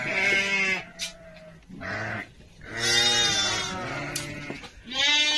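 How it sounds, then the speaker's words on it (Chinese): Sheep and half-month-old lambs bleating at feeding time on a farm, a loud chorus of overlapping wavering bleats close by, high lamb cries mixed with deeper calls, no talk. "小娟的这小羊羔半个月左右了"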